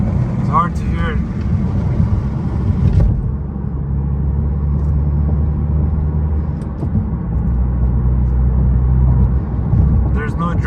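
Wind buffets the microphone outdoors in a continuous low rumble while a Honda Accord idles nearby, with brief bits of talk at the start and end.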